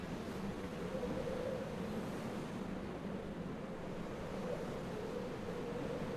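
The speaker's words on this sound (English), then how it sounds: "you can hear again the sounds of the waves crashing below and the howling winds all around" Waves crash below while howling wind blows all around, a steady, dense roar with a low rumble that rolls on without a break and without any voices.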